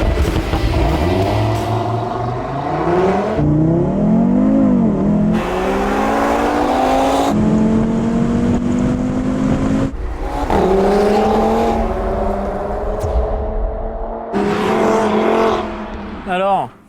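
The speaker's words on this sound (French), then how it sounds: "Drag race? Drag Race." Audi performance cars, R8 V10 plus, TT RS, RS 5 and RS 6, in a drag race, engines roaring and revving through repeated rising gear-change sweeps, loud and close throughout, with voices talking over parts.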